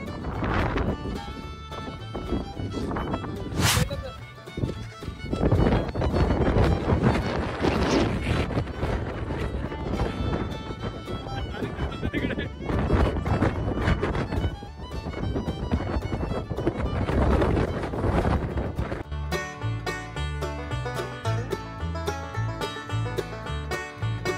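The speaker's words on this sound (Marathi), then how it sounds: "वारा जबरदस्त आहे" Strong wind roars over a hill fort, buffeting the microphone in loud, continuous gusts that stay rough and unbroken throughout.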